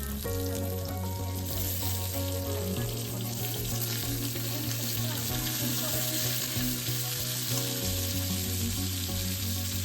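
Cumin seeds frying in a pan, as for a South Indian okra chutney, crackle and sizzle steadily under a continuous low hum, close and moderately quiet, with no voices.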